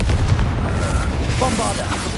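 A Confringo blasting curse goes off in Hogwarts Legacy as a deep, rumbling boom that holds across the whole moment, with faint voices mixed in beneath it.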